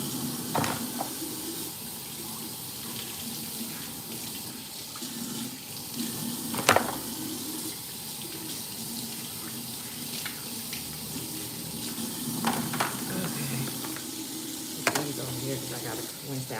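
Tap water runs steadily into a kitchen sink while a pan still holding vinegar is rinsed out, a continuous close wash with a few sharper clanks and splashes scattered through it.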